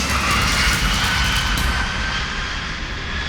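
A fixed-wing airliner touches down after a record-length long-haul flight, a loud continuous roar of jet engines close by, steady and dense, easing slightly toward the end with no voices.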